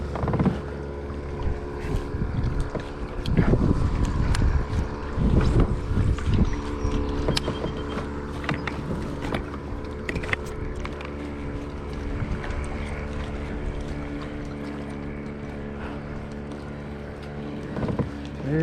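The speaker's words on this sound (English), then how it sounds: "I think I'm gonna have to find me a bank that blocks this wind" Wind blows over Wilgreen Lake in Richmond, Kentucky, a steady gusty rumble and buffeting close to the microphone, layered with a low steady engine-like hum and occasional water and handling clicks, no talk.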